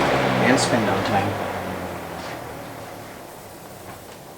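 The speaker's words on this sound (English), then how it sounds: "Spin down time." A GE electric fan spinning down, its whirring hum and low beat fading steadily from loud to faint over a few seconds, with a couple of soft clicks near the start.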